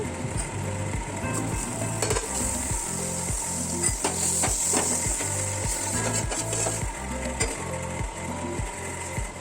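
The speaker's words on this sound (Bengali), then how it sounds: "তারপরে আমি ফ্রাই প্যানে দিয়ে দেবো সামান্য একটু বাটার" Butter sizzling in a frying pan, a close continuous crackling sizzle layered over a rhythmic low mechanical thumping, with occasional scraping; no one speaks.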